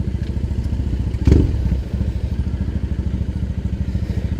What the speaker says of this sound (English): This is my 2009 custom Bonneville.